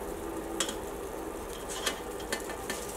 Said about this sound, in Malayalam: ഇനി നമ്മൾ ഇതിലേക്ക് കുതിർത്തി വെച്ചേക്കണ അരി ചേർക്കട്ടെ